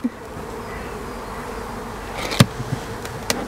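Honeybees buzz steadily at the front of a hive being smoked during a spring inspection, a continuous close hum with a couple of sharp clicks and knocks of handling.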